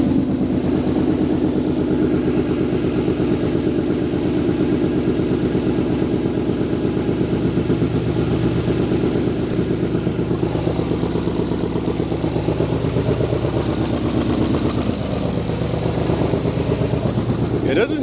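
A Ford Mustang engine idles steadily close by with a slight lifter tick, its low rumble holding an even, unbroken rhythm for the whole stretch with no talk over it.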